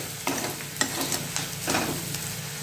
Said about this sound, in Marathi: आता कांदा ते चांगला परतून घेतात आहे